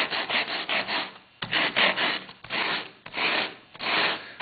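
Thin 1/64 inch plywood edge being sanded flat, close rasping strokes in bursts of roughly half a second to a second, loud and dry with short pauses between passes.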